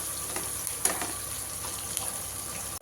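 Onions, caraway seeds and spices sizzle gently in a pan for chole masala, a soft continuous frying hiss close by with a few light stirring knocks.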